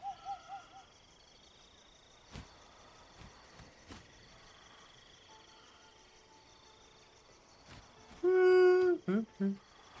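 Owl hoots from the Pretty Bird video game ring out as a loud run of hoots near the end, after quiet ambience with a few faint calls and clicks.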